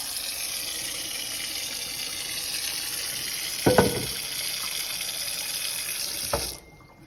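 Tap water runs steadily into a cooking pot for rice, a continuous close hiss with a couple of brief clanks before the flow cuts off near the end.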